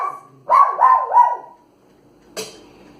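A dog gives three quick, close barks in a row, then falls silent before one short, sharp sound near the end.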